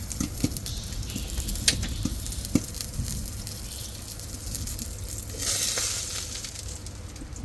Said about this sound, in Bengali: ডিম ভেজে নিতেছি আজকে সকালে নাস্তা করার জন্য